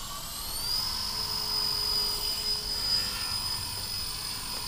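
Blade Fusion 180 RC helicopter flying in a yard, a steady high rotor whine with a sustained tone and constant motor drone, fairly near and loud throughout with no talk.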